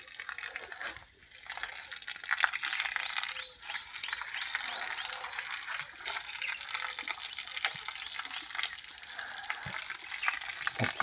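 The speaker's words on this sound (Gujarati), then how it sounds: "બતાવું તમે ડાયરેક્ટ ટોટીના પાણીથી આપણે નવરાવીએ" Tap water gushes in a continuous rushing hiss while buffaloes are bathed on a summer morning, close and steady with small clatters in the flow.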